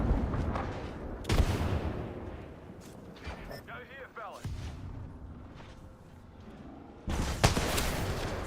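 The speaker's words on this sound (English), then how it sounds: "Nice nades coming out." Grenades burst in a competitive online shooter match, several muffled booms and blasts spread across the moments, mixed with gunfire-like bangs and game effects under a caster's commentary.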